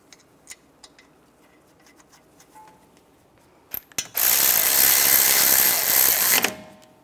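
A ratchet cranks down the brake caliper bolts on a 2011-2015 Chevrolet Cruze, a loud, rapid clicking run of about two and a half seconds after a few faint taps and clinks.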